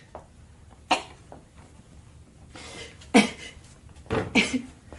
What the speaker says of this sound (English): find out if they managed to get rid of that ugly little cough